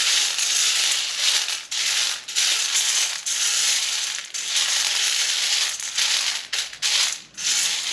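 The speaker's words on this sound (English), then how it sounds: "I'm just going to scoop in here and get a couple of cups of these beans." Dry garbanzo beans are scooped from a container, giving repeated close rustling, grainy pours and scrapes in several bursts separated by short pauses.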